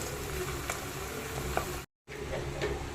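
Goat tripe fries in a heavy pan with a dense, steady sizzle and scraping stirs close by, broken by a brief dropout before the frying resumes; no one talks.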